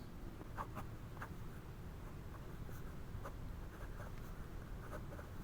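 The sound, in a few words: Hongdian N2 fountain pen medium nib writing on Rhodia paper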